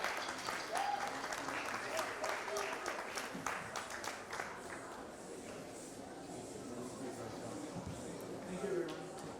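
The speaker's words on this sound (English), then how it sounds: "Could everyone please give these award recipients a round of applause?" An audience at a Hindi Divas 2024 ceremony breaks into sustained applause for award recipients, a dense wash of clapping that stays fairly even before thinning slightly toward the end.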